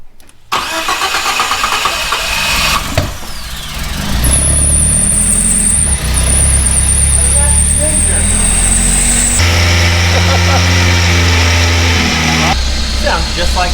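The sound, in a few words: old car engine running after 40 years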